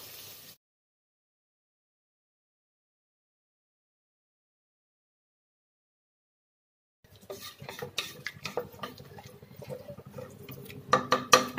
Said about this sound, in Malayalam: വെള്ളം ഒഴിച്ചു കൊടുക്കാം. വെള്ളം തിളപ്പിച്ച് വെച്ചിട്ടുണ്ട് ഇവിടെ